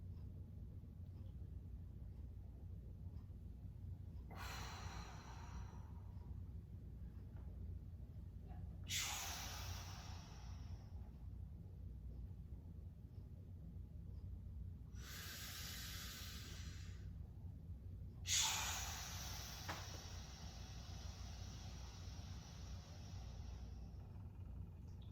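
Heavy, deliberate breaths during an air-element workout, four long exhalations spaced several seconds apart, each a strong close hiss over a low constant rumble, the last one the sharpest.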